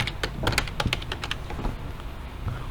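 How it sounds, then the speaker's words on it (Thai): Typing on a computer keyboard into a Google search box in a classroom technology lesson, with a rapid run of close, crisp key clicks that thins out toward the end. "พิมพ์มาใน Google ห้องเรียนสกปรก"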